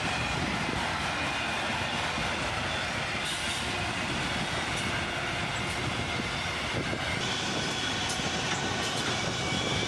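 A long freight train, with CSX and BNSF locomotives and a caboose at the rear, rolls past in a continuous steady rumble and rattle of wagons, with faint wheel squeals and no voices.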